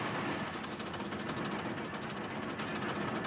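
The Thumper quarry machine hammers away at rock in a continuous, dense, grinding clatter with a faint rapid pulsing, loud and close throughout, no voices.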